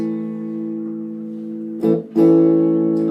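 An electric guitar chord with normal tone control rings warm and steady, fading slightly before a second chord is struck and held, loud and close.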